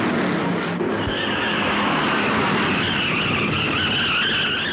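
Stock cars racing on an oval track, a continuous loud roar of engines with skidding tires squealing in a sustained high whine, no talk.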